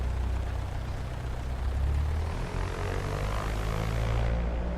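A simulated propeller aircraft engine in X-Plane 11 drones steadily as the mixture is enriched, its tone gradually climbing with rising RPM, loud and continuous throughout.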